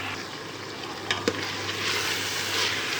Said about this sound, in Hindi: चने की दाल को कीमे के साथ हम लोग अच्छे तरीके से तकरीबन 2 से 3 मिनट हम इसे अच्छी तरीके से भून लेंगे